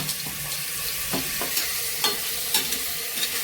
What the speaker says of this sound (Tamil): இப்ப இந்த எண்ணெயிலேயே நம்ம மிளகு தூளை போட்டுடலாம்ப்பா